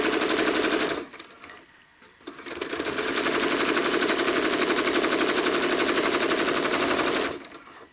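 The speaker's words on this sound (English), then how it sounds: "I'm going to stitch in the ditch down until I'm across from the next seam" A sewing machine stitches in the ditch along a quilt seam, a loud, fast, steady mechanical chatter that runs for most of the stretch, broken by a short pause near the start before the stitching resumes.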